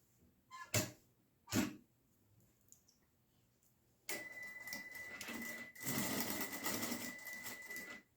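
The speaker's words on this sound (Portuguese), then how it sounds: "agora a gente vai fazer uma costurinha para fechar essa ponta" A sewing machine stitches a fabric end closed on a one-size surgical or culinary cap. A few sharp clicks come first, then the motor runs in a steady, close whir for about four seconds.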